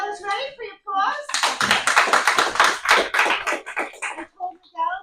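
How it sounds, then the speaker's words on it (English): A classroom of students bursts into a few seconds of brisk clapping for a classmate's persuasive speech, with voices talking before and after the applause. "Miguel is ready for your applause"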